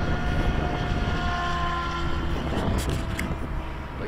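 Goblin 700 remote control helicopter flies with a steady, loud rotor and motor whine holding an even pitch throughout the short stretch.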